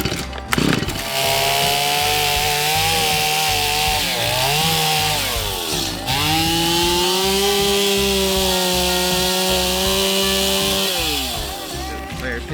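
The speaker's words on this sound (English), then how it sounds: "Get the chainsaw out, and we're gonna go ahead and cut this bad boy up." A chainsaw cuts up a heavy log, the engine loud and close with a steady buzzing drone that bogs and rises in pitch as the chain bites through the wood, running almost continuously throughout.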